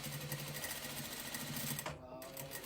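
A sewing machine stitches fabric in a steady, quiet whirring run with a brief pause near the end, faint and close.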